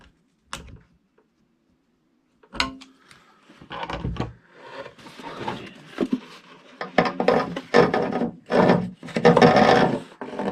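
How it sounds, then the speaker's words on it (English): A clamp sliding down a rubber fuel line on a 5kW diesel heater install, giving scraping, rubbing and clicking sounds that grow busier and louder toward the end, close up with no talking. "Run up the fuel line here. Slide the clamp down."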